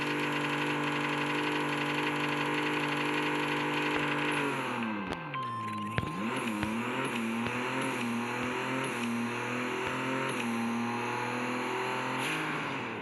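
A Koenigsegg One:1 hypercar in a racing game pulls hard with a steady, rising engine howl, drops briefly in pitch at a quick gear change midway, then climbs again, loud and close with no talk.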